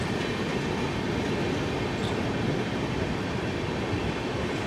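A train running past close by while crossing the Jabalpur Veraval Express, a loud continuous rumble with rail clatter and a brief metallic squeal, no voices.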